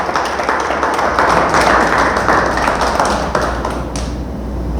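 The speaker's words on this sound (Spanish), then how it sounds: "Dele por favor fuerte, fuerte, fuerte el aplauso a nuestro Dios." A church congregation claps together in a sustained, dense burst of applause that fills the room, loud and steady for several seconds before tapering slightly at the end, with no talk over it.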